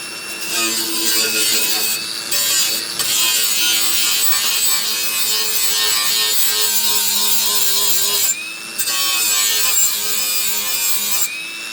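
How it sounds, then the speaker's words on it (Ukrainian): An angle grinder grinds rust off a shovel blade, a continuous loud abrasive whine that runs steadily with two brief dips where the disc eases off the metal. "Ну, думаю, зараз візьму Болгарію, трохи підчухаю її."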